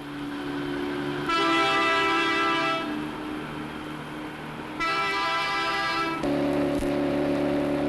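Fell diesel locomotive 10100 on its first trial run, a steady rumbling run with two long, loud horn blasts, then a lower engine drone.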